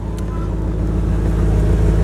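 A car engine idles steadily through a rusted Flowmaster exhaust, a loud, continuous low rumble with an even throb and no change in pitch.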